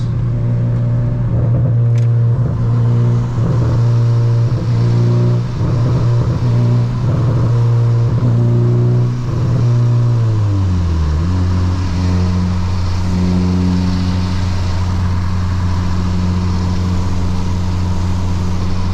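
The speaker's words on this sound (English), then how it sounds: "Get those nice burbles." A Honda Civic Si's exhaust drones loudly and steadily while driving at night, with bubbling burbles and crackles as the revs fall off partway through, then a lower, even cruise; no voices.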